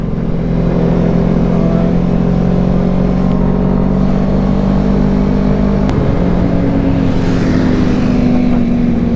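A motorbike engine runs loud and close with a steady droning hum, its pitch briefly shifting as the throttle is blipped midway, with no talk over it.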